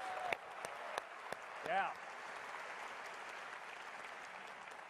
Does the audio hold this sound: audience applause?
yes